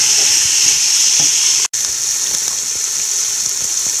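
Onions fry in hot oil in a pan for an egg biriyani, giving a loud, steady, close sizzle with one brief dropout partway through.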